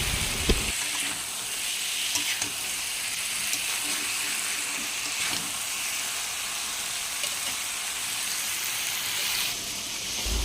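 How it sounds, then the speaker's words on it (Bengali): Chicken sautés with ground cumin, chili powder and salt in a pan, a dense, continuous close sizzle with light stirring scrapes throughout, no voices over it. "একটু জিরের গুঁড়ো লঙ্কার গুঁড়ো নুনের মানে নুনের গুঁড়ো না নুন মিশিয়ে ভালো করে কষিয়ে নিচ্ছি"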